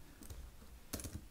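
A few faint, sparse keystrokes on a computer keyboard during Linux terminal work, heard as two quiet clusters of clicks against a low room hiss.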